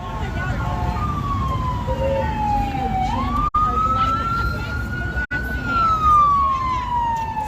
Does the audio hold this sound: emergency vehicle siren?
yes